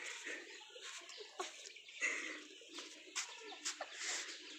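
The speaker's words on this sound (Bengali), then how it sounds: "দেখেন কি সুন্দর আমাদের মুরগির ফার্ম" Chickens and small chicks at a poultry farm chirp and cluck in a steady, busy chorus, with several sharper calls standing out close by.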